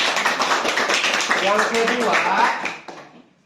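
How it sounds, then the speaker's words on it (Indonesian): A classroom of schoolchildren claps together in a dense burst of hand claps, fading out after a few seconds, with voices mixed in. "Iya, betul, tepuk tangan"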